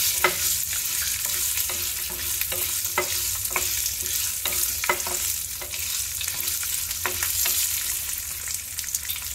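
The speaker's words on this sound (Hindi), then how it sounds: "पहले हम इसमें लहसुन डालेंगे।" Steady sizzling of garlic frying in a pan, with repeated scraping clicks of a spoon stirring at an irregular pace, no talking.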